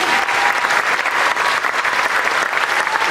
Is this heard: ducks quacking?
no